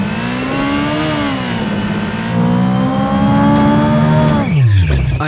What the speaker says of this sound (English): Both the engine and the exhaust are then mixed together using a variable tied to the player's perspective